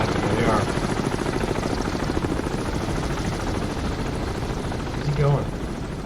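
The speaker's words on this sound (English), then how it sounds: "Are they full of helicopters already?" Helicopters fly overhead near a ship at sea, their rotors a steady, throbbing roar that fills the whole stretch and swells slightly near the end.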